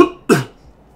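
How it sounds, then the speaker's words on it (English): A sick man gives a single sharp, close cough, a short burst following a brief fading sound, then quiet. "And I'm kind of sick, so coughing."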